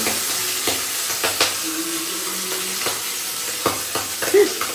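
Fish curry fries and sizzles in a pan with a steady hiss while a spatula stirs and clinks against the metal now and then, close and fairly loud.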